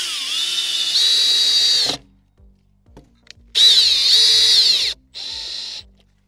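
Power drill driving black self-tapping wood screws into a pipe bender fixture, two loud close whirring runs with rising pitch, a shorter third burst, and quiet pauses of handling between them.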